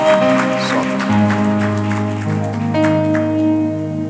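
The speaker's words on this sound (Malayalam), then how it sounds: "ക്ലാപ്പ് ചെയ്ത്" A congregation claps during a Sunday church service, the steady patter of many hands blending with sustained keyboard or organ chords playing loudly throughout.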